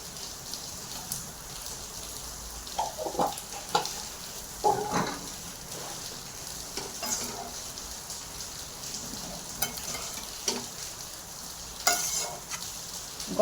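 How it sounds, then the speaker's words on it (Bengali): A fish chop mixture with garam masala being stirred in a hot pan, a continuous crackling sizzle broken by repeated scraping strokes of a spoon, with no talk. "গরম মশলাটাকেও ভালো করে মিশিয়ে নেব।"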